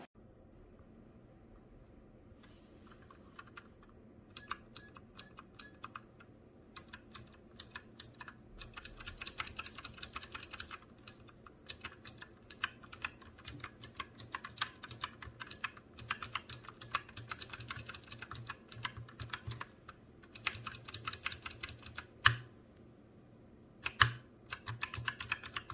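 Rapid, steady keystrokes on a Razer Huntsman Mini, a 60% gaming keyboard with clicky switches, pattering in uneven bursts with short pauses, close and fairly quiet, with no talking.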